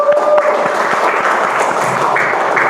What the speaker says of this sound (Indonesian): Beri tepuk tangan untuk Mas Reza